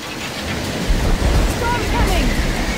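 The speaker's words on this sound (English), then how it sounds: "Storm's coming!" Storm thunder rolls in as a storm approaches in the video game Left 4 Dead 2, a loud, steady, broad rumble mixed with rain-like noise that fills the whole stretch without pause.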